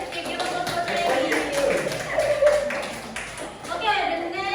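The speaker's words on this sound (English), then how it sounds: "give us a applause" A classroom of students clapping for a presenter, a loose patter of hands mixed with voices chattering over it, fading briefly before a fresh burst near the end.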